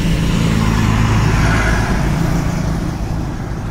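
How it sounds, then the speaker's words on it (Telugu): Ponnur bus number 310 pulls into a village bus stand at Jagarandapalem with a loud, steady engine rumble and road noise. The rumble eases slightly toward the end. "310 పొన్నూరు బస్సు."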